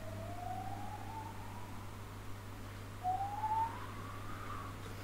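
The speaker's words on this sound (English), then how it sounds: "The ambulance is on the way, guys." An ambulance siren wails faintly in the distance, rising in two long sweeping tones over a steady low hum, with no voices over it.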